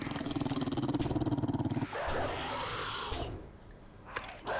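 A low, rumbling dog growl in the game 7 Days to Die pulses steadily for a couple of seconds, then gives way to shuffling noise and softer scattered sounds.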